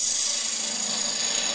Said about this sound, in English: So let's go bigger gouge now. Let's get some of this timber gone.